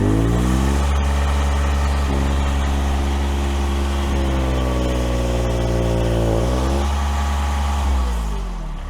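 The engine of a tow setup machine runs steadily at high speed while its hydraulic rams lift, a loud continuous drone whose pitch shifts slightly under load, close and without voices.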